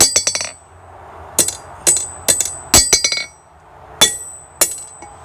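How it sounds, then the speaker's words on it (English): Hammer blows ringing on hot titanium at the forge during a welding attempt, in irregular clusters of sharp metallic strikes, some in quick bursts and others spaced apart, loud and close. "as soon as it gets orange, the hammer just bounces off of it."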